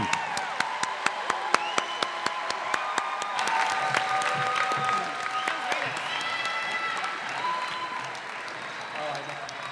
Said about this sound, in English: Let's have a round of applause for the class of 2018.